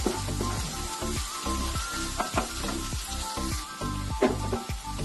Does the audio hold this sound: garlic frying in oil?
yes